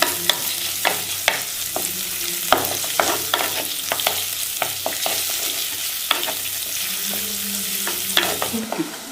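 Sliced onions, green chillies and curry leaves sautéing in oil in a pan, a steady loud sizzle broken by repeated sharp scrapes and knocks of a spoon stirring.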